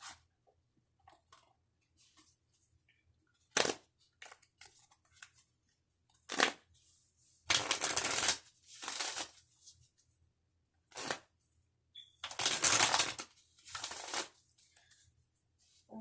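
Tarot cards shuffled by hand in a quiet room, several short bursts of riffling and sliding cards at uneven intervals, with brief soft taps and clicks between them.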